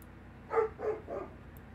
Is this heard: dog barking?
yes